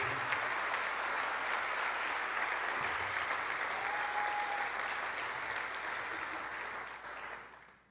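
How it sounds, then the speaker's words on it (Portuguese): A church congregation claps together during a sermon, broad sustained applause that holds steady and then fades out toward the end. "Dê uma forte salva de palmas para Jesus."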